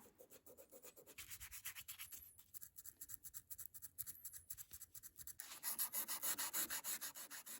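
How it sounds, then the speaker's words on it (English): A pocket knife blade from the WWII era, made by Robeson Cutlery, being hand-sanded with small pieces of sandpaper to remove old patina, rhythmic close rubbing strokes that grow faster and louder toward the end. "I just used some small pieces of sandpaper to sand the blade down and get rid of all that old patina"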